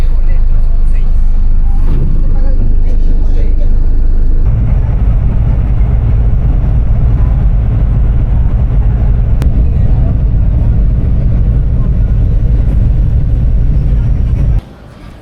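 City bus ride in Mexico from the train station to downtown, with a steady low engine rumble and road noise that deepens after a few seconds and runs continuously until cutting off near the end, while a voice talks over it.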